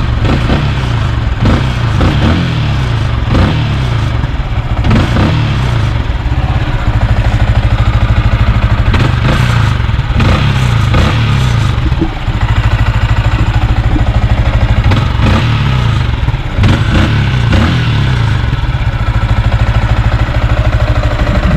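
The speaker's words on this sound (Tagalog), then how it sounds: "Yan yung motor ko, si Sniper 155 version 3." Yamaha Sniper 155 version 3 motorcycle, three years old with original parts, idling steadily up close, a continuous loud engine rumble with small periodic blips throughout.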